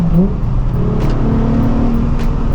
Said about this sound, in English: I just love the downshifts in this thing so much.